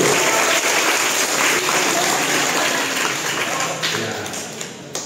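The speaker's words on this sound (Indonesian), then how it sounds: "Ya, tepuk tangan dulu." High school students on a museum study tour clap together in a dense, loud burst of applause that continues throughout and fades slightly toward the end, with voices mixed in.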